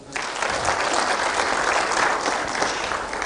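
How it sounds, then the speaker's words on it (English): A young crowd at a Pan African youth convention in Nairobi breaks into loud, sustained applause, thick overlapping clapping from many hands that swells quickly and stays full to the end. "And then a youthful round of applause."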